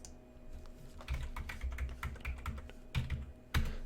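A computer keyboard clatters under steady typing as an IP address is entered to configure a TP-Link TL-WR700N wireless router: quick close key taps in an irregular run, a few louder strokes near the end, no voices.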